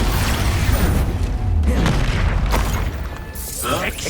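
An Expulso spell explosion booms in the Hogwarts Legacy game on PS5, a loud, dense low rumble that sustains through the clip amid battle effects, with a brief sweeping whoosh near the end.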